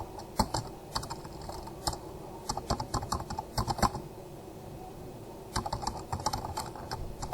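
Someone types on a computer keyboard nearby in quick bursts of clicking keystrokes, pausing for a moment before a final flurry.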